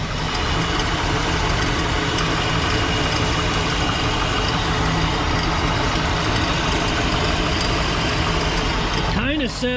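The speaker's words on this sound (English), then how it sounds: "Kind of sounds, it almost sounds bottom end, but it's not. Something in this front belt." Engine of the Griswold Family Truckster running near the front belt, a loud, steady idling drone with a noise from the belt area, continuous and close, ending with a brief rising whine.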